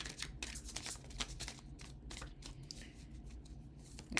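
Tarot cards are shuffled by hand in a series of soft, rapid riffling and flicking bursts, fairly close and quiet, with no talking over them.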